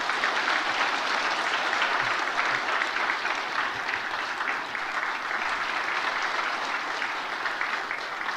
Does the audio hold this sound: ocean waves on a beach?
no